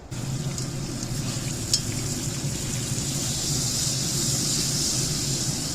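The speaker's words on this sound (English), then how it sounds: "I want to sear these off a little bit and get a little crust on top of there" Chuck steak sears in a hot pan for a stew, giving a steady, close sizzle and crackle that holds even throughout with no talking.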